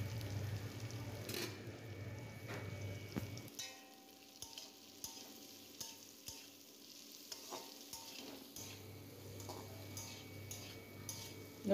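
Pieces of shol fish (snakehead) frying with salt and turmeric, a faint sizzle under a series of soft stirring clicks and taps from a utensil, with no talk.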